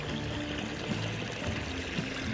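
A small man-made stream runs along a channel on hillside farmland, a steady close burble and trickle of flowing water, fairly loud, with no voices.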